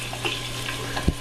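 Onions sizzling and frying in a pot for a caldo verde soup, a soft continuous crackle close by with a brief clink or stir near the end.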